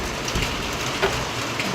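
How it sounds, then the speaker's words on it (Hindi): Heavy rain falls in a steady, dense wash of noise, loud and constant throughout with a few faint splashes, no voices present. "बारिश बहुत हो रही है"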